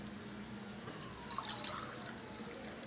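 Water poured from a 200 ml cup into a pot for cooking sprouted green gram lentils, a soft continuous trickle with brief splashy drips in the middle, faint and close.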